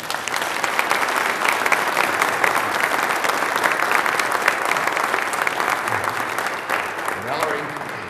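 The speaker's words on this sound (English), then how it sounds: "let's welcome these new members with a round of applause" A church congregation at a Lutheran worship service applauds new members: sustained, dense clapping from many hands that holds steady for about eight seconds and tapers slightly at the end.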